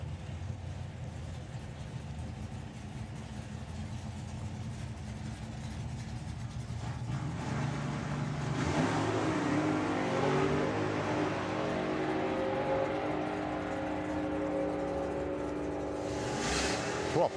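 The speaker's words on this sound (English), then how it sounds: "Proper wheels up launch there for Dave." Drag racing car at the STP Springspeed Nationals 2022 idling, then launching with a rising, sustained loud engine roar, distant crowd-like wash, at a drag strip with no talk.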